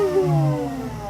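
A supercharged Toyota IS200 drift car idles on a dyno, its engine note steady and close with smooth, stable harmonics and a slight dip in pitch over the short stretch.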